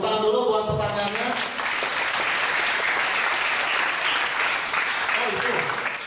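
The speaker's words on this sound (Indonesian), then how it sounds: "Oke, tepuk tangan dulu buat pertanyaannya." Audience applause at a Buddhist talk, a full, dense round of clapping that holds steady for several seconds, with voices briefly audible underneath at the start.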